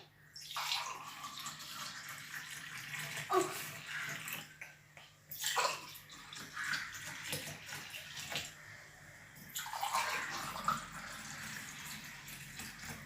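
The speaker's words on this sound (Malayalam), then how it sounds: "അത് നമുക്കിനി ഒരു സേവിങ് ഗ്ലാസ്സിലേക്ക് ഒഴിക്കാം" Strained lemon and mint juice, blended with sugar, is poured into a serving glass: a near, continuous trickling and splashing of liquid that swells and eases in several bursts over about thirteen seconds, with no talking.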